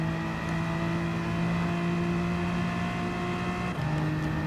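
Steady engine drone of a BMW M4 Gr.4 race car lapping Interlagos in Gran Turismo 7, a sustained tonal hum with a slight gear change near the end, alone.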